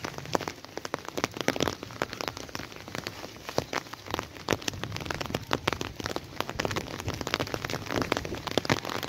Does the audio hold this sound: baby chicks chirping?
no